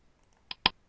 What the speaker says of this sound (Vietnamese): chọn ví dụ tiếng ở đây là tiếng click chẳng hạn